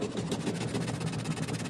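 A twin tub washing machine's spin motor runs with a dense, steady whirring rumble and rapid rhythmic pulsing, close and continuous throughout.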